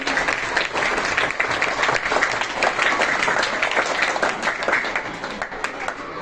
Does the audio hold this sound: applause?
yes